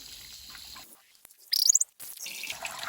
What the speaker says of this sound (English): We're draining the hot water heater.